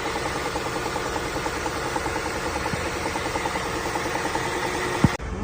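A five-year-old Volkswagen Tiguan engine idles with a steady, rhythmic knock from a broken main bearing bolt, heard close and continuous, with a sharp click near the end.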